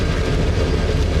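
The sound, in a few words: Mount Washington Cog Railway train on rack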